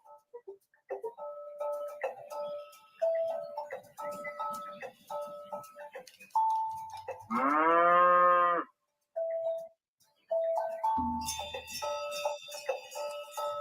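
A cow on grazed pasture gives one long, loud moo in the middle of a bright melodic background with bell-like tones. Quieter musical passages surround it.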